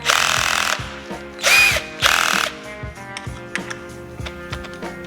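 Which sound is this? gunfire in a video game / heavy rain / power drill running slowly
power drill running slowly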